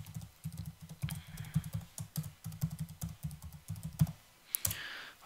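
Typing an email address on a computer keyboard during a login, heard as a steady run of close key clicks with a brief pause near the end, no voices.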